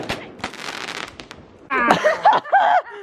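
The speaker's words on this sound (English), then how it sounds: "That firework literally came right at us." A firework bursts close by with a rapid run of sharp crackling pops and bangs, then loud, excited voices shout and shriek right afterward.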